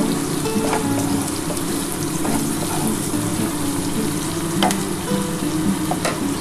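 Onion and ginger paste fry steadily in a pan, a continuous sizzle with occasional scraping stirs and light clinks, close and without voices.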